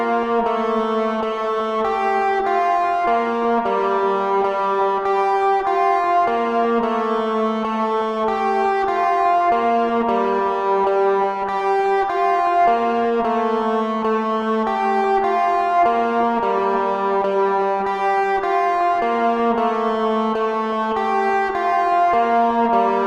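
Lead electric guitar riff from a song, played with effects as a steady, repeating melodic line of ringing notes, loud and close with no talking over it.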